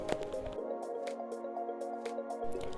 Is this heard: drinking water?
yes